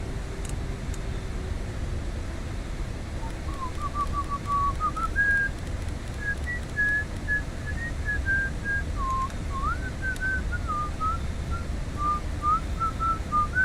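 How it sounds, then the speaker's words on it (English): Someone whistles a wavering melody along with a song for over ten seconds, steady and moderately loud over a constant broadband rumble of flight-simulator engine noise. "Someone's whistling with that song."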